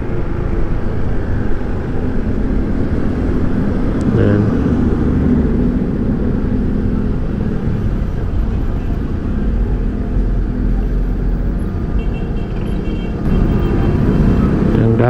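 Dense road traffic rumbles steadily around a Cavite roadway late at night, a continuous wash of car and motorcycle engines with a brief voice over it.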